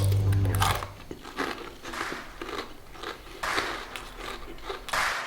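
Crunchy bites of spicy VANZAI chips sprinkled with red seasoning, a series of crisp snapping crunches and chewing repeated every second or so, close to the mic with no talking.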